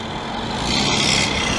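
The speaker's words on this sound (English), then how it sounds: "That's how a truck's supposed to sound, man." An old heavy truck engine rumbles past nearby on a Montreal boulevard, loud and steady, swelling slightly as it passes.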